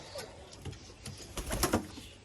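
Pigeons cooing softly inside a racing-pigeon stock loft, several short low coos and faint wing or shuffling sounds at a moderate distance, quiet and without talk.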